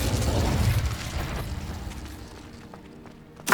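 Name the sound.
Incendio fire spell blast in Harry Potter video game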